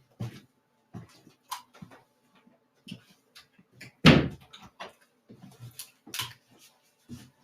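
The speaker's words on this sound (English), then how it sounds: "You mind closing that door?" An indoor door swings shut with a loud bang, standing out among scattered light knocks, taps and small dog-like whimpers in a quiet room.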